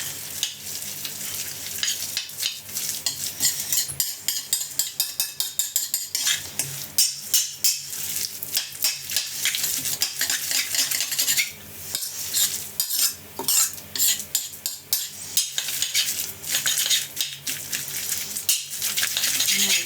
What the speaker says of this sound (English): And you could use your hands or a spoon. Just give it a stir.